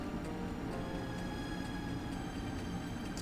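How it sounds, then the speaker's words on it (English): A train departs in the video game Wild ARMs 3, a steady low rumble of rolling wheels with faint rhythmic clacks, continuous and moderately quiet throughout. "And finally, the train departs."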